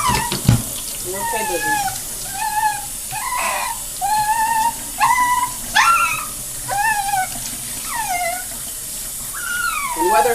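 A dog whimpers and gives rising, high-pitched cries while being bathed in a plastic box, with running water splashing steadily beneath; a person speaks briefly near the start.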